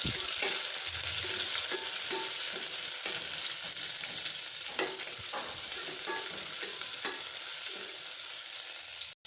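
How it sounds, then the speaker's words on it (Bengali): Chopped onion frying in oil with bay leaf, cinnamon and cardamom for plain white pulao makes a loud, even hiss throughout, with occasional soft spatula scrapes and clicks close by, ending abruptly. "পেঁয়াজ কুচি হাফ কাপ দিয়ে ভেজে নেব"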